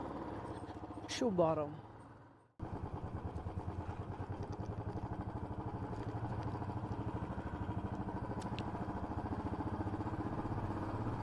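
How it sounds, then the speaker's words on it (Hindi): A motorcycle for a Sunday ride in Noida kicks into life after a moment of quiet, then settles into a close, steady, even-pulsed engine chug, with someone speaking briefly just before it starts. "ये अपनी बाइक चल गई है और अब चलते हैं राइड के लिए।"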